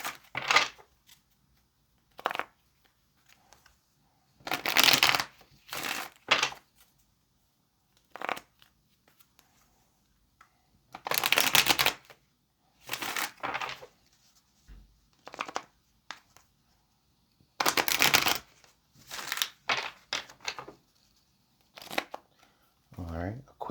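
A deck of tarot cards is shuffled by hand in repeated crisp, riffling bursts of one to two seconds, separated by quiet pauses and light card handling, close and clear.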